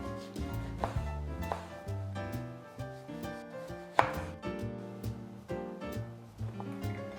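A knife slicing down through an orange wheel for a cocktail garnish, a close series of crisp cutting taps and scrapes against a board, quiet and without talk.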